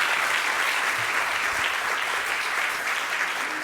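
Steady, dense applause from a graduation ceremony audience honouring graduating students, loud and continuous throughout with no voices over it.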